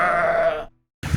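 A sheep bleats loudly and close by on a Faroe Islands pasture, one sustained wavering call, then a short pause and a brief low rustle.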